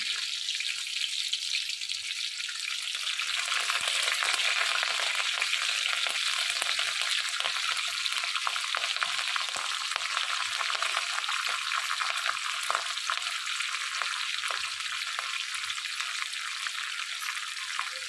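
Chopped garlic and slit green chillies fry in hot oil for Chicken 65, giving a loud, steady crackling sizzle throughout with faint stirring scrapes underneath and no voices.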